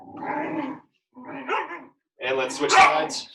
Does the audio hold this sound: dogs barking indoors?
yes